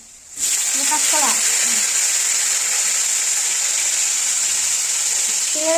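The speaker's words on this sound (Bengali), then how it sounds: "জিওল মাছ ভাজা হচ্ছে আর ভীষণ পরিমাণে ফাটছে" Jiol fish fry in hot oil in a home kitchen, a loud, continuous spluttering sizzle starting abruptly and holding steady, with a voice briefly heard over it.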